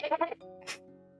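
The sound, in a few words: goat sound effect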